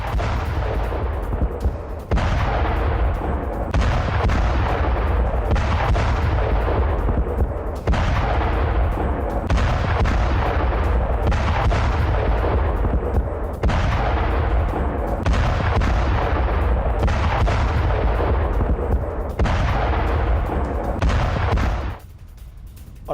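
Israeli air strikes and bombardment on Hezbollah launch sites in Kfar Kila, southern Lebanon: a rapid series of heavy booming blasts repeating every second or two, loud and continuous, ending abruptly.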